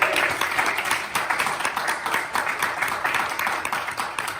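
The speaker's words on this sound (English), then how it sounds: "Well, I say give another round of applause." Audience applause at an improv comedy show, steady clapping from a crowd running the whole stretch at moderate level, with no clear voices over it.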